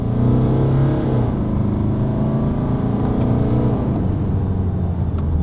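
A loud, steady diesel engine roar as a 2014 BMW 328d accelerates hard at full throttle, the droning pitch shifting slightly as it pulls forward.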